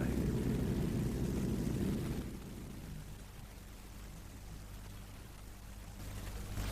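A steady, low engine drone fills a crowded airliner cabin in a radio drama. It is faint and rumbling, heavier at first, then a softer, even hum with no clear words.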